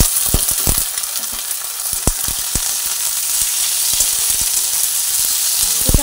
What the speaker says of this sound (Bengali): কুচানো টমেটো দিয়ে দেওয়ার পরেও একসঙ্গে সবই ভেজে নিলাম।